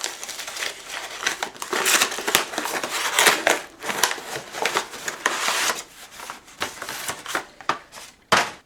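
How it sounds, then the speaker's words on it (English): Paper wrapping torn and crumpled off a book, a near series of crinkling rips and rustles with uneven bursts, no voices. "So let's unwrap this bad boy and see what it is."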